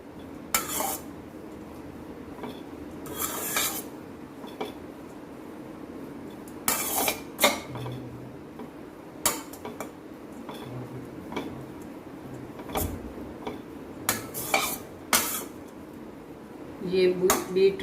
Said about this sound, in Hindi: इसको एक साथ चलाते रहिए ताकि नीचे जले नहीं